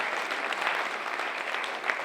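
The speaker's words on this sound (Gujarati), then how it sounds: "આપણે સૌ એકવાર શ્રી ગુજરાત સાહિત્ય અકાદમીને જોરદાર તાળીઓથી એનું અભિવાદન કરીએ" An audience at a literature festival opening in Banaskantha applauds the Gujarat Sahitya Akademi, with dense, steady clapping from a crowd filling the hall, loud and continuous throughout.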